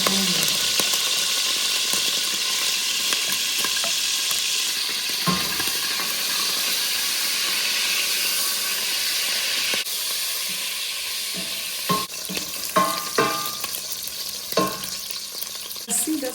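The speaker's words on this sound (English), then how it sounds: "ahead and fry our Tooloo beef. You really need to fry this, guys, for more taste." Tooloo salted beef fries in oil, rendering its fat, with a continuous crackling sizzle broken by scraping stirs and clatters toward the end, no speech.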